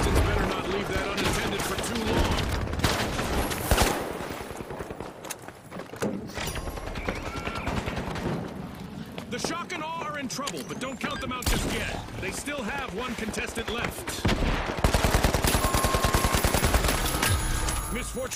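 Sustained turret gunfire in the arena shooter The Finals, a dense, loud, continuous rattle of rapid shots running almost the whole time amid explosions and chaotic game noise, with brief voice lines mixed in.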